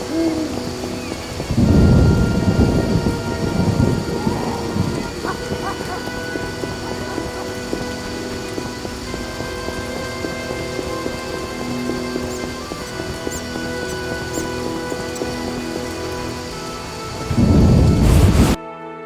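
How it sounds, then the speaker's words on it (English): Steady rain pours through a thunderstorm in The Witcher video game, with loud rumbling thunder bursts near the start and again near the end over the continuous downpour. "It rains and it pours."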